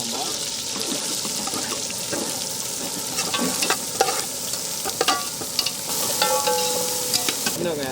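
Curry leaves and onion fry in hot oil for a crab omelette, giving a steady sizzle with scraping stirs and a few sharp pops that build toward the end. A voice talks faintly in the background.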